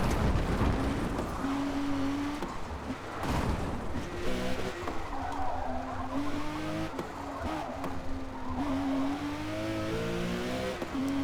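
A race car speeds around the Nordschleife in the Forza Motorsport video game, its engine note climbing and falling through gear changes, with tire squeal and a continuous loud roar throughout.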